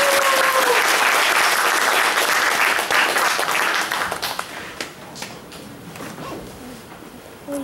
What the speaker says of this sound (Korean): 여러분의 뜨거운 박수가 필요합니다.